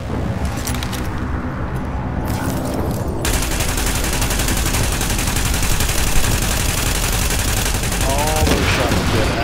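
Rapid gunfire in a video game, dense overlapping shots crackling continuously at high volume with a short quieter patch early on, voice faintly mixed in.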